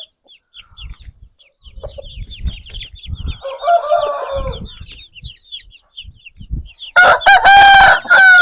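An Aseel rooster crows loudly and close by near the end, after a stretch of faint bird chirps and low shuffling noises.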